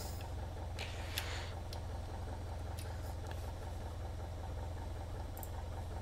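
A Piper Cherokee 180 light aircraft engine idles in a flight simulator game, a steady low rumble that holds evenly throughout with faint scattered clicks above it.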